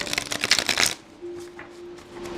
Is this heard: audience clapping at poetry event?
no